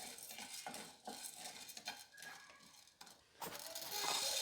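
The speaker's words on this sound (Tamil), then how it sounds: "வாணலில் கொஞ்சம் கடலப்பருப்பு போட்டு நல்லா வறுத்துக்கலாம்." Chana dal being dry-roasted and stirred in a pan, with scraping and rattling of the spoon against the metal, uneven strokes, a light sizzle, a brief pause, then a steadier hiss at the end.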